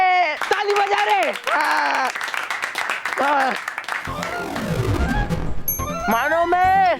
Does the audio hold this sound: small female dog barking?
no